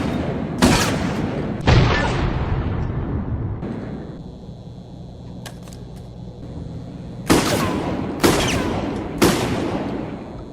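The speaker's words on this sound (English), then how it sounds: "this is one heck of a bulky shotgun. No wonder it's called the Perforator" Heavy blasts from the bulky Perforator shotgun in the video game Resident Evil: Operation Raccoon City: two loud shots, a quieter stretch with faint tones, then three more evenly spaced booming shots close up.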